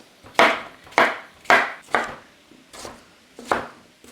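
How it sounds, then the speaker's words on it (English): A knife roughly chops cucumber on a board in seven crisp, close strokes at an uneven pace, each a sharp thunk with no voices. "So I'm gonna roughly chop my cucumber"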